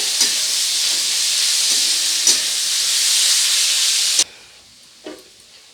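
Sliced onions frying in hot oil for an egg biryani, a steady broadband sizzle with a few scraping stirs that cuts off abruptly near the end, leaving faint clicks and a light scrape.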